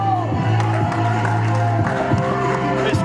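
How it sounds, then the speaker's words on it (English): A crowd at a live UK wrestling show cheers as a wrestler comes through the curtain, a steady loud roar mixed with clapping and whoops that carries on beneath music for the whole stretch. "This crowd erupts every single time this young man walks through the curtain."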